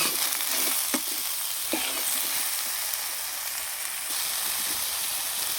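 Mixed vegetables with tomato, turmeric, cumin powder and salt stir-frying in a pan, giving a loud, steady sizzle throughout with a few soft spatula scrapes, no voices.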